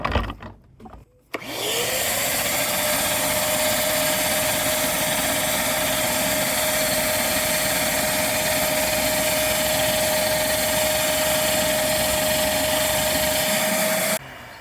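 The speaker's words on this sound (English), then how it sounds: "you can use a wet vac, and then you can just go ahead and clean this up here. I'm going to go ahead and turn it on here." A wet vac switches on and runs at a loud, steady whine while cleaning out a pool skimmer, holding its even roar for about twelve seconds before cutting off, and no voices.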